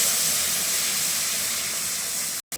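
Dal poured into hot tempering oil in a home kitchen, a loud steady rushing hiss of steam and sizzle that cuts off abruptly near the end.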